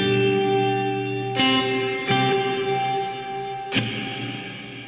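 Strummed electric guitar chords run through a reverb effect with no pre-delay, each strike followed immediately by a smeared, sustained wash of reflections; three chord attacks, loud and alone.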